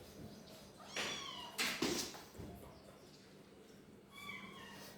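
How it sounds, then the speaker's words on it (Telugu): Cats meow a few times, quiet cries spread across a hushed indoor space, with a couple of short mews near the start and one at the end. "ఇవ్వండి ఈ పిల్లులు ఇవన్నీ పాలు తాగుతాయి దాని దగ్గర"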